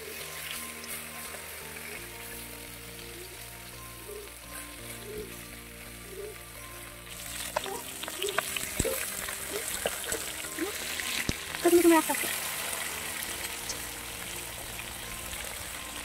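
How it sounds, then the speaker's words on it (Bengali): Pieces of river mirga fish, each about 700–800 g, fry in hot oil in a rural kitchen with a steady close sizzle throughout. Clinks, splashes and a louder burst come midway, with no speech. "এখন নামিয়ে নিচ্ছি, আরও অর্ধেকটা বাকি আছে ভাজা করার"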